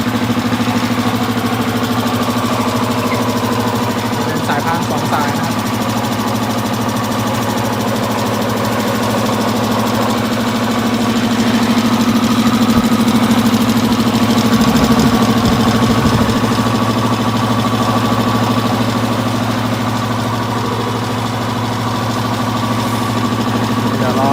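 An air compressor motor on a 200-litre tank compressor hums and drones steadily at close range, a continuous even mechanical whir with faint knocking underneath.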